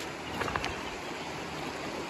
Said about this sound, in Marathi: वाहतं पाणी